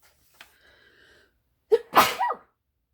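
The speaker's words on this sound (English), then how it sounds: "I think I'm going to sneeze." A single sharp sneeze from a person, a quick inhaled catch followed by a loud burst and trailing exhale, heard close up in a quiet room after a faint brief hum.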